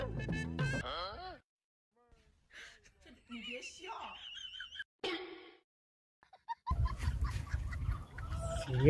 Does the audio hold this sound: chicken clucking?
yes